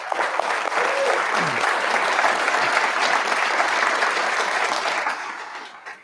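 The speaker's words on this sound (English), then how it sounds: "let's give President Skog a round of applause" An audience claps loudly and continuously for President Skog at an Idaho political gathering. The dense, close applause holds steady for several seconds, then thins and fades out near the end, with a brief vocal sound early on.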